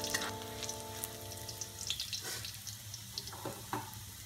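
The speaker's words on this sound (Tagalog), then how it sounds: "Haluin lang natin ito hanggang mag-brown na yung ating garlic." Garlic sizzling in hot oil in a pan while being stirred, a soft steady fry with a low hum underneath for the first couple of seconds, then scattered scrapes and clinks, fairly quiet with no talk.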